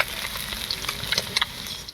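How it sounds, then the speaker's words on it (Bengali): Pieces of fasha fish frying in oil in a pan, a close, steady sizzle with a few sharp crackles and stirring scrapes over a short moment, no talk. "বাকি মাছ কাটাও আমার ভাজা হয়ে গেছে,"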